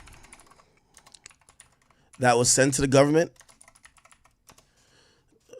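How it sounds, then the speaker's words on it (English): Typing on a computer keyboard: scattered soft key taps run throughout the clip, with a brief stretch of speech in the middle. "I think I'm typing her name wrong."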